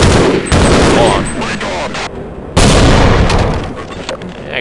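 Loud, dense bursts of gunfire and explosions in the Half-Life video game, continuous booming and rattling that cuts out briefly then resumes.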